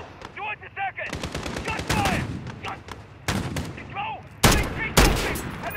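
Loud bursts of automatic and single-shot gunfire in Call of Duty: Modern Warfare (2019) on the Piccadilly, London level, rattling in rapid volleys with sharp heavy blasts near the end, under brief shouted voices.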